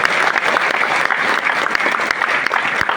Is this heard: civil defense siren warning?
no